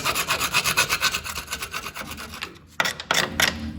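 Chisel scraping rust off the frame of a Jeep TJ, a fast rhythmic series of rasping strokes up close, followed by a pause and a few louder, harsher scrapes.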